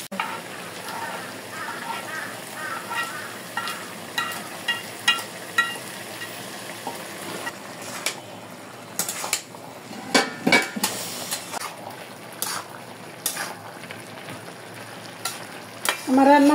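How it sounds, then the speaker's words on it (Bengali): Small shrimp and onion fry in a pan with a soft continuous sizzle, broken by repeated sharp clinks and scrapes of a spoon against the pan, close and fairly loud, with a brief voice near the end. "আমার চিংড়ি মাছ পেঁয়াজ ভাজা হয়ে গেছে"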